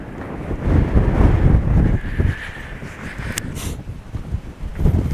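Strong gale-force wind buffets the microphone on an Iron Age hill fort near Old Sodbury, a steady loud roar and rumble that swells and eases in gusts, with no voices.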